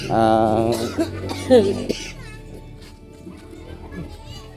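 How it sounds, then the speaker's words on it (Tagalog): A few harsh coughs near the start, with children's voices and chatter continuing around them. "Inuubo pala si ate."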